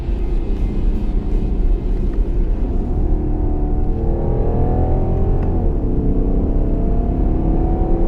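A BMW 5 Series Touring G31 with an inline-six diesel revs toward its redline, giving a loud, continuous low rumble whose pitch climbs and then shifts partway through, heard from close by with no talking.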